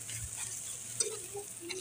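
A potato stuffing with grated additions roasts in a pan, giving a soft, low sizzle with light stirring scrapes and a brief clink, close and fairly quiet, with no voices.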